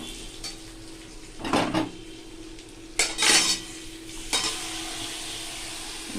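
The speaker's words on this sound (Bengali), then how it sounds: "মাংসটা ঢেলে দিলাম" Chicken meat tipped into a hot pan in a home kitchen, with three bursts of sizzling and stirring scrapes over a low steady background.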